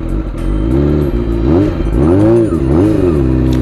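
A motorcycle engine revs up close and loud, its pitch climbing and falling in several throttle blips over a few seconds.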